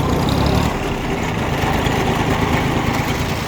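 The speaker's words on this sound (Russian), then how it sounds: "Вот такой тракторок" A small Japanese Yanmar F14D tractor's diesel engine idles close by, a steady low rumbling drone with an even throb throughout.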